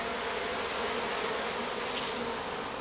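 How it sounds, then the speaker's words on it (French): A honeybee swarm, recently dropped from a tree, buzzes as a dense, steady, loud drone that fills the air continuously, close by and with no voices. "Encore un bel essaim."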